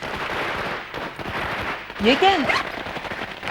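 Firecrackers burst at an engagement celebration, a quick rattling string of pops heard behind a voice, with a brief rising whistle among them.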